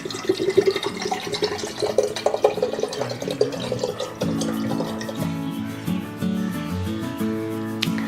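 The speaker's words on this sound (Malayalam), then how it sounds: "നമുക്ക് ഇതിന്റെ വെള്ളം ഒരു ജഗ്ഗിലേക്ക് ഒഴിച്ചു കൊടുക്കാം" Tender coconut water is poured into a jug, first dribbling and splashing unevenly, then settling into a steadier close pouring stream as the jug fills.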